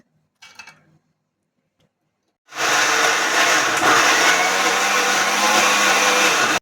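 A kitchen blender grinds washed fresh corn kernels with green chillies into a paste, a loud steady roar starting after a brief soft rattle and a few seconds of quiet, then running continuously to the end.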